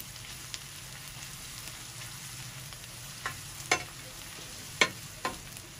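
Ginger garlic paste frying with onions in a pan, a soft continuous sizzle with a few sharp spatula clinks and stirring scrapes near the end, fairly quiet and with no talking.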